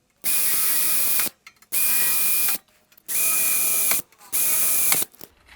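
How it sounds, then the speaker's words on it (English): Power drill boring pilot holes in metal parts for a welding cart, four sustained high-pitched whining bursts of about a second each separated by short pauses, close and loud with no talking. "And now I can drill each of the pilot holes."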